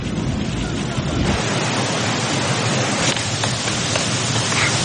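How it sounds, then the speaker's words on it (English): Steady roar of a jungle waterfall in a Rambo: First Blood Part II scene, a constant dense wash of falling water with faint background sounds over it. "You hear the waterfall in the background."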